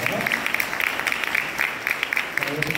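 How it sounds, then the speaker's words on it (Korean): Wedding guests applauding after a ring is placed on the fourth finger during the ceremony, a brief burst of scattered clapping with crowd murmur in the room. "여러분들 큰 박수"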